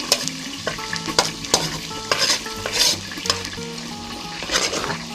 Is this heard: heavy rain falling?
no